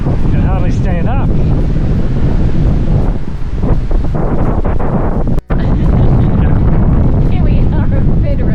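Strong hot wind roars across the mic on the Yorke Peninsula coast near Federation Corner, a constant loud buffeting with possible surf beneath and a voice talking over it.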